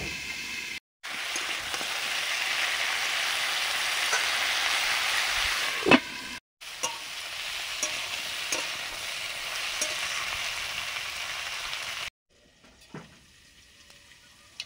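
Mustard oil sizzles loudly and steadily in a pan ready for cooking Malabar spinach, with a few brief cuts in the sound and a quieter sizzle with faint clinks near the end.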